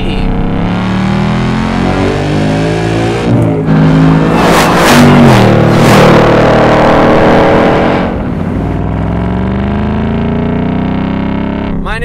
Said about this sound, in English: I'm pleased to be driving this Mustang GT, which is now equipped with our HPE800 supercharged upgrade.